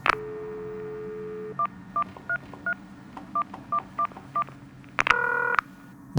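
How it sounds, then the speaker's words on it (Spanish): Telephone keypad dialing: a steady dial tone, then eight short, evenly spaced DTMF beeps, followed by a louder, sustained dual tone near the end. No voices. "buscando una respuesta fue que tomó el teléfono e hizo la llamada"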